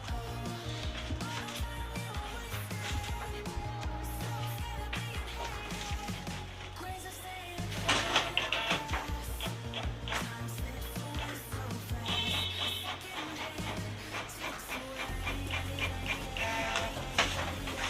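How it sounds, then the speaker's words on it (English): Canon G3000 inkjet printer running a test page, with a continuous mechanical whir and clicking feed and carriage movements that shift in rhythm throughout, close and fairly quiet. "Printing test print."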